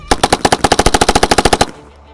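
A rapid machine-gun burst of about seventeen evenly spaced shots in a D-Day game, loud and close, cutting off abruptly and fading into a short tail.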